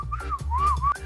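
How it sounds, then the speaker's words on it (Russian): A person whistles indoors at home, a short close-up melodic phrase of a few sliding notes, clear and alone. "Он что, дома свистит, что ли?"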